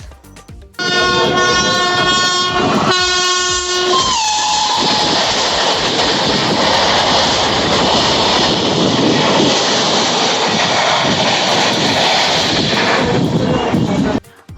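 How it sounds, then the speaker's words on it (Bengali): Howrah to NJP Shatabdi Express thunders past at speed, opening with a long loud horn blast, then a sustained roaring rush of wheels and carriages for about ten seconds before cutting off abruptly. "এখন আমাদের সাথে দেখা হবে ট্রেন নাম্বার একশো কুড়ি বিয়াল্লিশ হাওড়া থেকে এনজিপি শতাব্দী এক্সপ্রেস"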